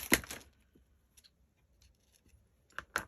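Scissors snip paper while a vintage Christmas card is made from 6x6 scrapbook paper, with a crisp cut at the start and another pair of quick snips near the end, close and fairly quiet.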